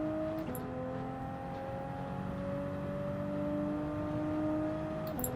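A race car's engine in Gran Turismo 7 drones at a steady pitch, then drops twice as gears are shifted down for a turn. The sound is continuous and fairly loud, with no voices.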